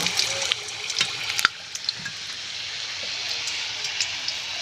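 Malpua, a sweet Bengali village-style pancake, frying in hot oil: a steady hiss of bubbling fills the whole stretch, with a few sharp crackles and pops near the start, fairly close and unbroken by speech.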